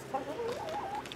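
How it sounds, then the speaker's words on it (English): A hen in a backyard chicken run gives a short, warbling cluck, a single close, moderately loud murmured call lasting about a second. "So yeah, chickens are doing good."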